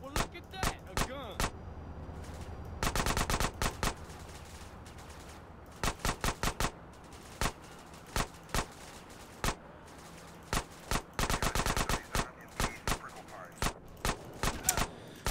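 Gunfire in GTA San Andreas Definitive Edition: sharp, separate shots fired singly and in quick clusters of two to five, steady and fairly loud throughout, with quieter game ambience between.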